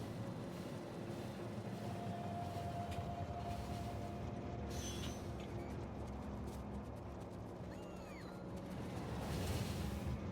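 An oil train rolls along the tracks in Factorio, a steady low mechanical rumble with soft rail clatter that swells slightly toward the end, with faint tones over the top and no speech.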